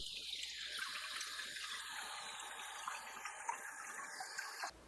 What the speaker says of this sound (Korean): 미끈거리는 생선의 겉부분과 아가미 안쪽을 씻어주세요.